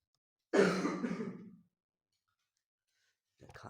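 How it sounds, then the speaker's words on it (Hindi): A single close, rough cough or throat clearing, lasting about a second, followed by silence and a faint sound at the end. "खांसी आ रही है।"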